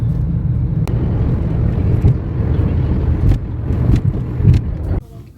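Mercedes GLS SUV driving through Delhi traffic, heard from inside as a steady low road and engine rumble with occasional brief knocks, continuing evenly before dropping off near the end.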